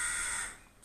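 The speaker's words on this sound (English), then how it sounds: "Hello, Crow. It's a regular visitor in my videos" A crow gives a single harsh caw nearby that fades out in under a second, heard alone.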